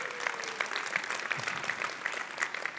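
Audience at the Tableau 2023 keynote applauding, a dense, even wash of many hands clapping in a large hall that carries steadily for the whole stretch.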